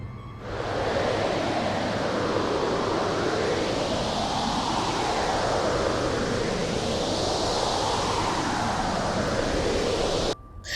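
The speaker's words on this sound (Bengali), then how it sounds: "এই সময় চারিদিক কাঁপিয়ে এতক্ষণের অপেক্ষামান ঝড় আছড়ে পড়ল।" A storm wind sound effect surges in slow, sweeping gusts, a loud continuous rushing that swells and fades, cutting off abruptly at the end.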